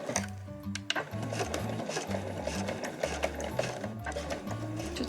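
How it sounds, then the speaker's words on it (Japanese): Household sewing machine stitching a zipper onto fabric with its presser foot, running in a steady, continuous mechanical whir with rhythmic needle thumps and a few brief pauses and restarts, close and fairly loud, with no voices. "家庭用ミシンの押さえの端を活用します。"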